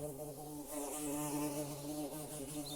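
Bees buzz around flowers, a steady close droning hum that holds without a break and swells slightly in the middle, with nothing else heard.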